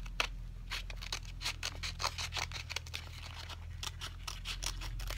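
Scissors cut across a paper sticker sheet from a Stickerbloom kit, a fast run of close, crisp snipping strokes in a quiet room with a low background hum.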